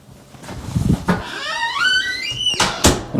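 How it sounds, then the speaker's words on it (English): An interior door with a squeaky hinge swings shut: soft bumps, then a rising, wavering squeal, followed by a sharp latch click and thud close by. "I'm going to close this door"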